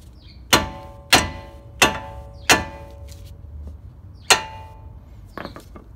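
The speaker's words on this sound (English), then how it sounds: "take your mallet and just hit the bottom of the tie rod" A mallet strikes the bottom of an outer tie rod end on a 2014-2018 Silverado/Sierra to pop it free from the steering knuckle: five sharp metallic blows, four in a steady rhythm, then a pause and a fifth, followed by light clinks.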